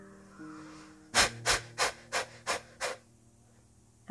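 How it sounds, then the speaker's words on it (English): A yoga breathing exercise in quick Kapalbhati style: six forceful, evenly spaced exhalations through the nose, each a short breathy burst about a third of a second apart, close and clear over a low steady hum, with no talking. "Last round, inhale."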